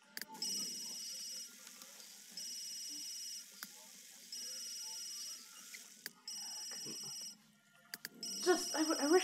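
A phone rings in the video game Sims 3, with repeated electronic trilling rings in regular bursts over quiet background, occasional clicks, and faint talking near the end.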